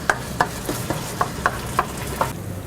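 A utensil taps and scrapes a pan of frying bacon at an even pace, about eight crisp strikes over a steady low sizzle, close and moderately loud with no speech.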